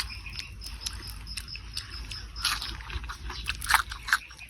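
Crispy fried crablets being chewed up close, with repeated dry crunches and bites scattered across a quiet background, a few sharper crackles standing out near the end.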